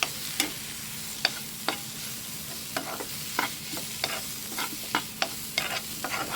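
Spice powders for squid thoran are sautéed in a pan under a low, steady sizzle, with a spatula scraping and tapping the pan at irregular intervals throughout.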